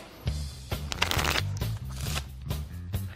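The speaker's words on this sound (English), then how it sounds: "Card magic from a shuffled deck of cards." A deck of playing cards is riffled and shuffled close up for a card magic trick, with quick repeated fluttering bursts of card edges running through the whole short stretch and no talking.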